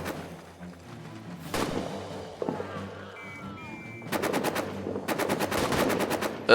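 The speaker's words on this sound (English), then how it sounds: "Oh, that's a machine gun." Machine gun fire in the trench warfare video game All Quiet in the Trenches: distant thuds and rumbling, then sharp rapid bursts of automatic fire, moderately loud over a low battlefield drone.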